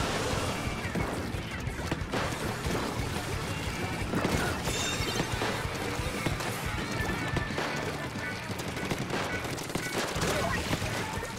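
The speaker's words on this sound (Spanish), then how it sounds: "fallo todos los tiros ahí" Rapid weapon fire from a Splatoon 3 match crackles constantly amid busy game effects and music, a dense stream of shots running the whole time without pause.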